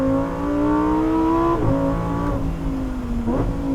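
A Lamborghini Huracan Tecnica engine on a race track, a loud, steady high-pitched wail rising under full throttle, dipping briefly twice as gears change, then pulling again, close and continuous without talk.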